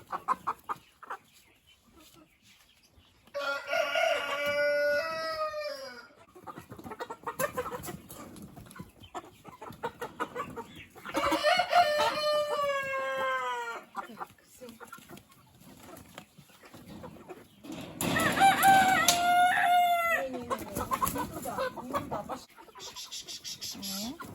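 Hens and other poultry cluck and squawk in three loud drawn-out bouts of rising, strained calls, close by, with quieter rustling and shuffling between them.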